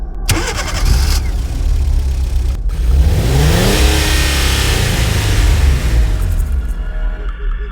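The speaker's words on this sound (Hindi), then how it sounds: "रतन बोला, डोंट वरी गाइस, कार मैं चला रहा हूँ।" A car engine cranks and catches, then revs up and holds a loud, steady roar for several seconds, close and alone with no talk, used as a sound effect in a Hindi horror story.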